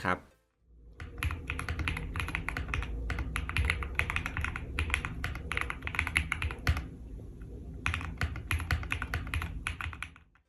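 Rapid clacky typing on a mechanical keyboard, close up, in a long continuous run with a brief pause before a second burst of keystrokes.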